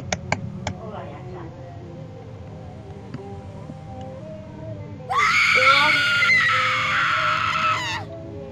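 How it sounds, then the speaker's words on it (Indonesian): A woman's loud, sustained scream rings out in the Disney.exe horror video game, lasting about three seconds after earlier quiet game sounds and clicks, with a person talking around it. "Jadi ya ada wanita jerit gitu loh"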